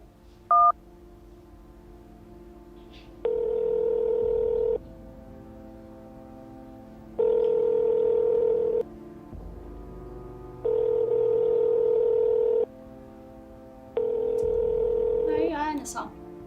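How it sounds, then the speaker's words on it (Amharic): A telephone is dialed with a short keypad tone, then four long, evenly spaced ringback tones sound at steady volume, with a brief voice at the very end. "እስኪ ስልክ ምጭ መስፍን ጋር"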